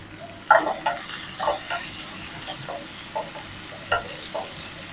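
Onions, green chillies and curry leaves frying in hot oil with mustard seeds and lentils, a steady low sizzle with occasional sharper pops and stirring scrapes throughout.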